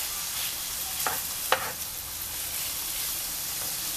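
Liver pieces begin to fry in a hot pan, giving a continuous soft sizzle with a couple of sharp stirring clicks, close up and without speech.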